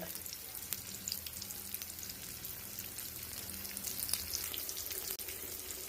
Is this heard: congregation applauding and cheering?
no